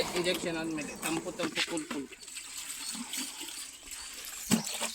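Water splashes and pours in a steady broadband rush over a cow's back, with a voice talking over the first half.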